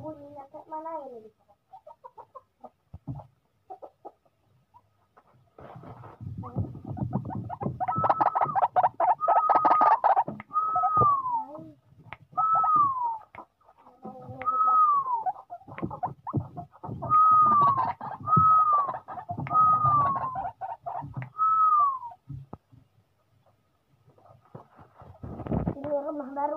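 Ruak-ruak waterhens give repeated short descending calls at a mid distance, several in a rhythmic series, against a background of shuffling and murmured talk.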